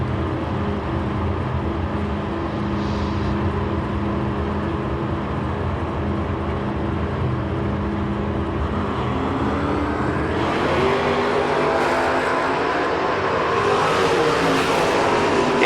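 White Malibu and Mustang drag racing cars launching down a drag strip at a Door Wars event, a steady loud engine roar that swells as the cars accelerate away.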